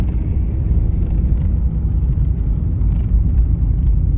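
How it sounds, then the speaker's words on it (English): A low-mileage 1986 Chevrolet IROC-Z cruising on local roads, its engine and road noise forming a steady, loud low rumble throughout with no talking. "we're taking this IROC for a test drive around the area here."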